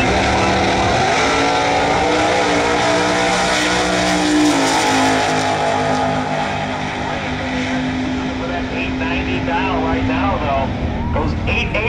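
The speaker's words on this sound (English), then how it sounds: "69 Chevy Camaro, 560." A 1969 Chevy Camaro race car with a 560 engine running on E85 alcohol fuel at a Pro E85 drag racing event, a loud sustained engine roar filling the whole stretch, with an announcer talking over it.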